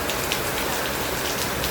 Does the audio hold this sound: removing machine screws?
no